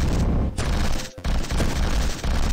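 Dense, continuous weapon fire in the game Neurovoider, a loud rapid fusillade of shots broken by one brief gap before resuming, with no talk.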